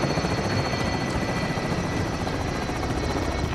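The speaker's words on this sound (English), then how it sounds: "Be advised, enemy attack chopper incoming." An enemy attack helicopter in Call of Duty: Modern Warfare hovers close by, its rotor producing a loud, steady, dense whirring drone throughout.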